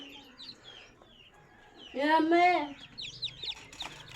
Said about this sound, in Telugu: మంచి క్వాలిటీలో వస్తాయి వన్ డే చిక్స్ ఇవి